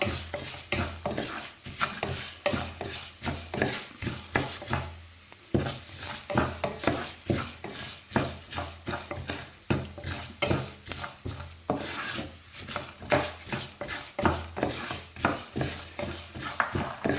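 Leftover idli upma with turmeric is stirred briskly in a pan, a spatula scraping and clacking against the metal in quick, continuous strokes under a light sizzle, close and steady throughout with one brief pause; no one talks.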